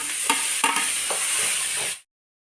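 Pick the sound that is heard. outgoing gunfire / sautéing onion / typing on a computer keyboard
sautéing onion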